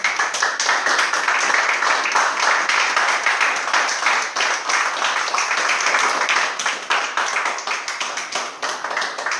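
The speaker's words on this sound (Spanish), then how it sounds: "Le da un aplauso al Señor, hermano." Sustained congregational applause fills a church, dense overlapping clapping at full strength throughout with no pauses and no talk.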